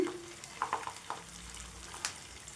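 Poha vadas fry in oil in a pan over medium heat with a soft, continuous sizzle, broken by a few light clicks and taps nearby.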